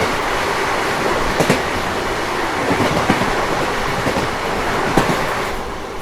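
Interior of a moving passenger express train on the Bengaluru–Vijayapura route, with a loud continuous rolling roar and periodic sharp clacks of wheels passing rail joints and a crossing, no talk.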